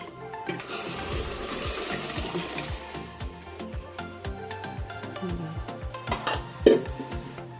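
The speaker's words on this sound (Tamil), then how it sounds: "உங்களுக்கு தேவைக்கேற்ற அதில் தண்ணி ஊற்றிக்கோங்க" Water pours into a pot of lentil sambar, a steady splashing and trickling stream with occasional stirring clinks, close and alone without talk.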